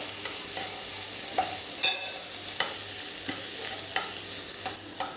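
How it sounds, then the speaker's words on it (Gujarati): Capsicum, carrot and onion sautéed in a pan for a veg Manchurian, a steady hiss of frying broken by several sharp scrapes and clacks of a spoon stirring against the pan, close and fairly loud, with no voice over it. "કેપ્સિકમ અને ડુંગળી હવે આ બધું આપણે એક કે બે મિનિટ જ આને પણ સાંતળવાનું"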